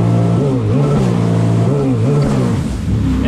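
Sea-Doo Spark Trixx personal watercraft engine running rich on a test tune, a loud, steady close-up drone with rising and falling revs on the water.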